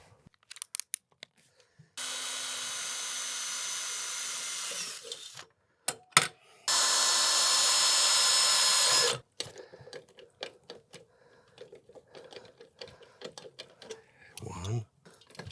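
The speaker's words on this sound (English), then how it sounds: "mark drill locations using an 1/8 inch drill bit" An electric drill with a 1/8 inch bit bores into a ladder rung in two steady bursts of a few seconds each, close and loud, separated by clicks, handling noise and short stretches of talk.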